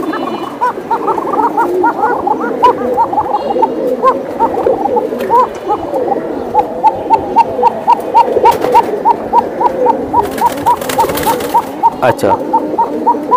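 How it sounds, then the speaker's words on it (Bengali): Three pairs of Silver Giribaz pigeons coo repeatedly in a steady, rhythmic rolling pattern, loud and close, continuing throughout as someone speaks briefly. "3 পেয়ারই মাশাআল্লাহ প্রচুর ডাকে"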